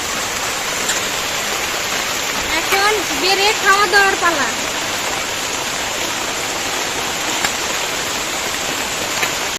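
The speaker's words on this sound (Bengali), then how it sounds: "শেষ মুহূর্তে কিন্তু বৃষ্টি সত্যি সত্যি চলে এসেছে।" Steady rain falls outdoors in a continuous dense hiss, fairly loud and constant, while a person talks over it.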